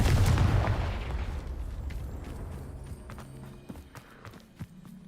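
Confringo blast spell in the Hogwarts Legacy game: a loud, booming burst at the start that fades into a long rumbling decay, with a few faint clicks and knocks in the quieter tail.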